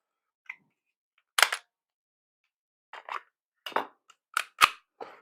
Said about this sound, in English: let's take this pistol out of this plastic bag